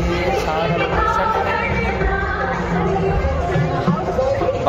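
A large crowd at a wedding venue fills the air with loud, continuous babble of many overlapping voices close by, steady throughout.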